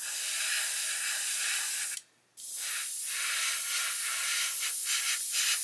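An airbrush sprays paint onto a 1/24 scale Airfix Bf109 G-5/G-6 model kit, a loud steady close hiss that cuts out briefly and resumes, with faint pulsing as the trigger varies.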